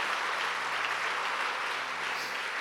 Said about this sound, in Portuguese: você pode aplaudir o Senhor com bastante alegria pela sua palavra